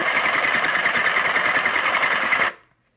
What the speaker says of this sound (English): I do want to make sure that I'm going to sew it again.